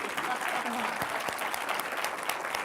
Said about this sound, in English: a round of applause for being here with us